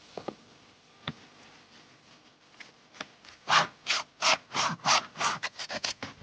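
A saw cuts through a piece of yellow-fat beef rib in a pastoral Inner Mongolian kitchen. A few scattered scrapes give way to a run of about nine rhythmic, gritty back-and-forth strokes that quicken toward the end. The sawing is close and has no voices over it.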